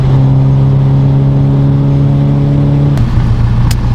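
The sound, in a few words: race car engine noise at Magny-Cours circuit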